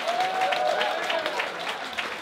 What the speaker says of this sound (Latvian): aplaus tev!